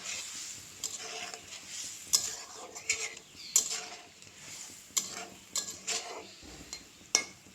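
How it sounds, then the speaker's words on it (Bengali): Eggs going into a pot of boiling curry, with soft clinks of a utensil against the pot and light stirring, close but quiet, with a faint bubbling simmer underneath. "এখন দিয়ে দেব ডিমগুলো।"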